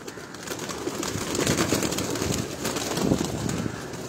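Breeder pigeons coo on a rooftop loft in Lahore, soft repeated cooing mixed with wind noise and a steady outdoor hum, fairly close and continuous.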